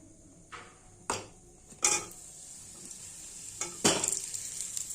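Pre-fried potatoes go into a hot pan and are stirred, sharp sizzling bursts rising with each addition and scrape of the spatula, several distinct clanks over a continuous frying hiss.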